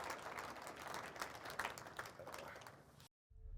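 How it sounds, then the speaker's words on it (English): An audience at an in-person conference Q&A applauds a speaker steadily with dense, continuous clapping that cuts off abruptly near the end, followed by a moment of silence and faint room noise. "round of applause for Tom,"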